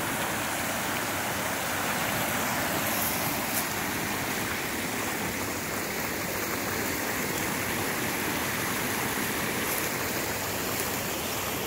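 The Fall River rushes steadily at the riverbank on a calm autumn day in Ashton, Idaho, a loud, even wash of flowing water that fills the whole stretch with no voices.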